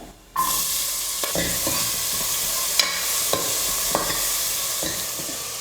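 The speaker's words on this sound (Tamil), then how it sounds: "ஒரு 100 கிராம் சின்ன வெங்காயம் எடுத்து பொடியாக நறுக்கி எடுத்துக்கிட்டு அதையும் சேர்த்துக்கிறேன்." Finely chopped small shallots hit hot oil in a pressure cooker with a sudden loud sizzle, then fry steadily while a spoon scrapes and stirs in periodic taps against the pot.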